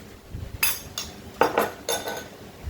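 A spoon stirs cake batter mixed with cocoa in a bowl, clinking and scraping against the sides in four or five quick strokes, close and fairly loud.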